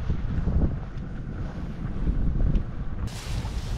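Strong wind buffets the microphone on an island, a continuous loud roaring rumble with gusts that swell and ease, with no voices heard.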